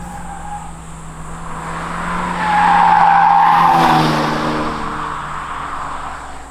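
A 2021 Hyundai Elantra N-line driving on the road, with a steady engine and tyre roar that swells to a louder peak midway, then eases back to a constant cruising drone.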